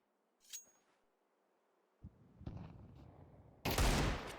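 Desert Eagle pistol fire in Counter-Strike on Dust2: a faint early shot, then a few sharp reports grow closer and louder before a heavy closing burst of gunfire.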